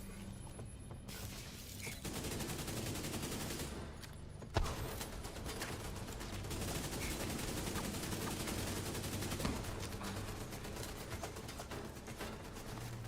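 Rapid, sustained gunfire from the video game The Division 2, with dense overlapping bursts of automatic fire that continue throughout, joined by a sharper impact near the middle.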